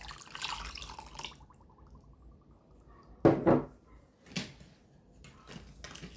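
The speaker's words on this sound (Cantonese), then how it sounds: "再加1碗嘅熱滾水" Hot boiling water is poured from a bowl while making a mango pudding, a soft splashing pour with a brief louder gush in the middle and a few clinks, faint and close.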